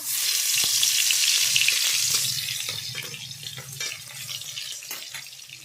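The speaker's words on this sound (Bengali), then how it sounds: "পেঁয়াজ বাটা ভালো করে ভেজে নেব" Garlic paste fries in mustard oil in a kadai with a loud, bright sizzle that is strongest at first and then settles into a softer, steady crackle, with a few light clinks of stirring.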